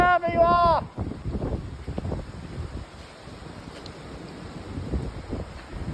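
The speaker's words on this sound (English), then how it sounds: "Yeah, this tunnel is so windy here." Wind gusting through a tunnel makes a steady broadband rush that carries on for the whole stretch, loud and close. A person talks briefly over it at the start, and then the wind continues on its own.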